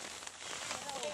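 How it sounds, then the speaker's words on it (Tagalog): Steady broadband patter of rain falling on a tent shelter at a rice farm, continuous and fairly close, with faint scattered drips and no clear speech. "May ulan man."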